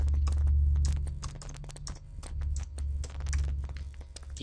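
Rapid typing on a computer keyboard while entering text into a text field, with dense irregular key clicks that come steadily over a low background hum.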